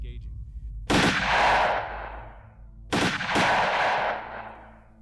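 Two sharp sniper rifle shots from a video game, each a loud broadband crack with a long rolling echo tail, spaced about two seconds apart, with no talk over them.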